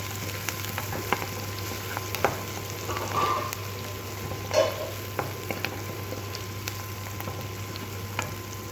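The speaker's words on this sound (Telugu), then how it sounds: "ఇప్పుడైతే ఇందులో పచ్చిమిర్చి ఒనియన్ తర్వాత వెల్లుల్లిపాయలు కరివేపాకు వేసేసాను ఇవన్నీ బాగా ఫ్రై అయ్యేంత వరకు ఫ్రై చేస్తున్నాను" Onion, green chili, garlic and curry leaves fry in a pan for carrot rice, giving a steady low sizzle with occasional soft stirring scrapes and light pops, fairly quiet and continuous with no voices.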